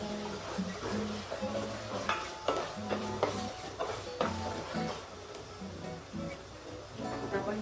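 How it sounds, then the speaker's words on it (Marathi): Onion fries in a pan for chicken biryani and is stirred, with a soft steady sizzle under rhythmic scraping and clattering strokes of a spoon against the pan. "तर 1-2 मिनिटं मी जर असा कांदा थोडा अजून एक शेड करते गुलाबी."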